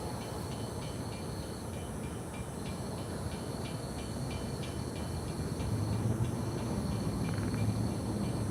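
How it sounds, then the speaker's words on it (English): CSX local freight L808 rolling through a gated, lit grade crossing in Dalton, Georgia, a steady low rumble of railcars with faint rhythmic clicking of wheels, swelling slightly louder toward the end. "here comes L808, the local, based here in Dalton for CSX."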